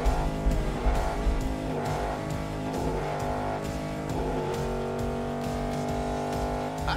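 Street Outlaws drag cars launch and race on a public street, with a loud sustained engine roar, brief tire squeal, and a long droning pull as the cars run off down the road.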